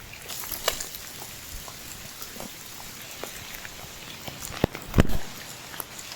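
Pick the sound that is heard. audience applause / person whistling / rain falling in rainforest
rain falling in rainforest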